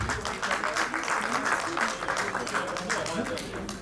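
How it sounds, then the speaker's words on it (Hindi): Audience applause at a Hindi-language event as a program director is welcomed, a moderately loud, steady run of clapping with voices talking and calling out over it. "तालियां प्लीज जोरदार"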